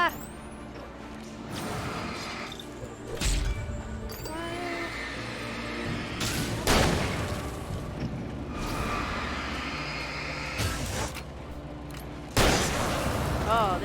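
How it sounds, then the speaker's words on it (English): Shotgun blasts from the horror game Alan Wake boom out in loud, widely spaced bursts over a dense, rumbling game soundscape. "Oh, this shotgun's great."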